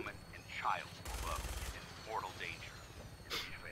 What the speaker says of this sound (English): We're being shot at.